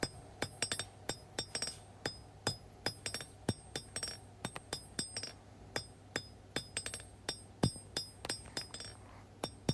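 Steel chef's knife blade being hand-forged with a hammer, a steady series of sharp ringing metallic strikes in an uneven rhythm, close and loud with no talk.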